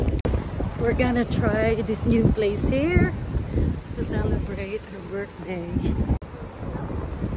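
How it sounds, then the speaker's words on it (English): Strong wind buffeting a microphone outdoors on a walk to a restaurant, a constant low rumbling roar under people talking throughout. "It's really windy."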